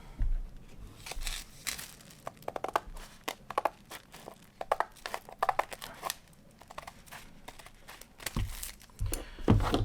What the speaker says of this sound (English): Now you're just tearing where it binds itself to the album.